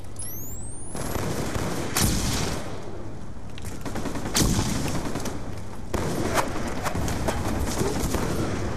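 Gunfire in a hardcore search and destroy match, with loud bursts of shots and sharp single cracks spread across the whole stretch over a steady game background.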